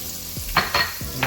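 Ginger-garlic paste frying in a pan for fish biryani, a soft sizzle under a few quick scraping stirs spaced through the short stretch; no talk.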